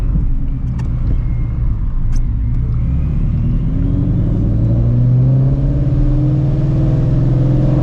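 Supercharged 700 hp Ford Shelby GT350 V8 fired up on a wet road in the rain, its loud, steady engine rumble rising as the revs build, close and continuous with no talk.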